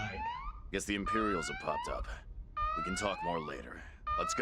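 An alarm siren wails in the video game Valkyria Chronicles 4, rising and falling in repeated sweeping tones beneath characters talking throughout.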